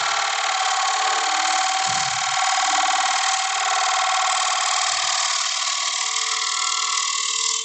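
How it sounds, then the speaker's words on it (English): A wood lathe spins a platter as a gouge cuts across it, giving a steady, loud, continuous whirring scrape that runs unbroken throughout, with only faint low thumps beneath. "So I'm doing a heavier cut on the outside and a lighter cut as I get towards the middle."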